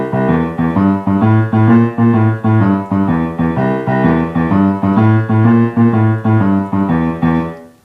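Boogie-woogie piano left-hand pattern played with a shuffle feel: a steady, bouncing bass figure repeating evenly and loudly on its own for the whole stretch, with no voices.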